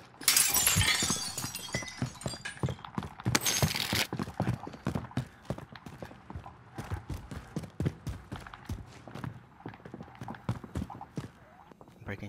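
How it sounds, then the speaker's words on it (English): Glass shattering in Call of Duty: Warzone, a bright crashing burst early on amid rapid footsteps and gunfire-like clatter in a tense multiplayer match, with players talking over it. "Breaking glass."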